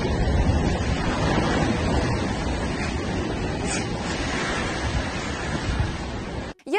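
Storm waves crash against the shore in a continuous heavy roar of surf and spray, mixed with gusting wind buffeting the microphone, loud and close throughout before an abrupt cutoff at the end.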